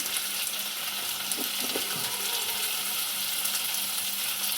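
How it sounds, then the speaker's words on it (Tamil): Tomatoes sautéing in a pan with salt and turmeric give a steady, soft sizzle, with a few light stirring scrapes partway through and no one talking. "நல்லா வதக்கிட்டு இப்போ வந்து தக்காளி சேர்த்து விட்டுறலாம்"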